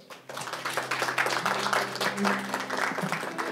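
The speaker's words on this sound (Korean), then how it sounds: "오늘 수고에 대해서 우리 박수로서 마무리하도록 하겠습니다" Audience applause closing a forum session on pandemic-era urban futures, a steady moderate wash of clapping sustained throughout, heard from within the hall.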